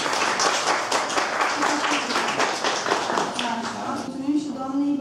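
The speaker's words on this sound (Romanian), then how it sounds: "Haideți să o aplaudăm!" Audience applause for a young student at a children's drawing contest award ceremony, a dense burst of clapping that tapers off as a voice starts talking near the end.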